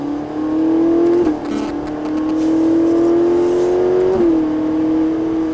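A Ferrari F458 engine accelerates progressively, a loud, close, high-pitched rising whine that climbs, briefly dips as it shifts, then climbs again before settling into another shift, with no talk over it.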